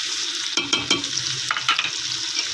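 Mutton frying in ghee sizzles as spices and tomatoes go in, with a few sharp bursts of stirring and scraping over a steady close hiss.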